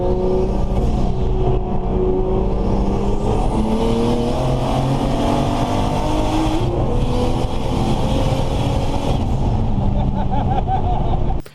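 A 2JZ-swapped, turbocharged Toyota Tacoma pickup making over 600 wheel horsepower races a 5.0: a loud, continuous engine roar whose pitch climbs through each gear with brief dips at the shifts, heard alone without talk.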